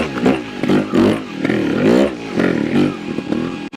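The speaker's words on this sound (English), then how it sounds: "that top end of the Nitro is ferocious. And you can tell simply by the sound." A Vertigo Nitro trial motorcycle engine revs hard in repeated rising and falling bursts, loud and close, with no talk over it.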